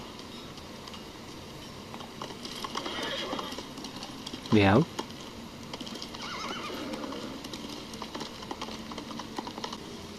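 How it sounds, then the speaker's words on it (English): A horse whinnies loudly once, rising then falling, amid game ambience in Ghost of Tsushima, with faint hoof clip-clops around it and a brief voice in the background. "Get on my horse."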